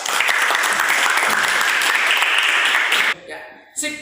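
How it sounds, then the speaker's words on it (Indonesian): A classroom group claps together during a teacher training session, a loud burst of dense applause lasting about three seconds before it breaks off abruptly, with brief scattered sounds afterward. "Tepuk tangan yuk."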